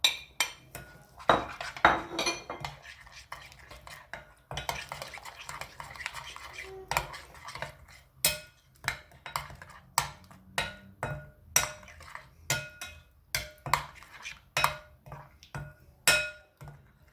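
A spoon or utensil mixes chicken in a bowl with ginger garlic paste, green chili paste and dry spices, making repeated sharp clinks and scrapes against the dish in an irregular, steady rhythm, close and fairly quiet.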